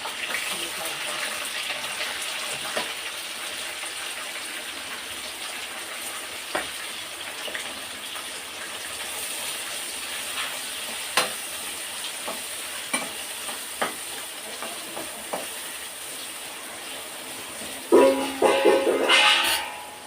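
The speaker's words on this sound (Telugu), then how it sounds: "ఫ్రై ఫ్రై అవుతుంది" Onions and green chillies fry in a pan with a steady soft sizzle, punctuated by light clicks and scrapes of stirring; a louder clatter comes near the end.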